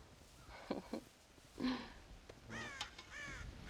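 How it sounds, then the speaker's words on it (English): Crows cawing in the Red Dead Redemption video game, several harsh caws in irregular bursts against a quiet outdoor ambience, moderately near. "God damn crows!"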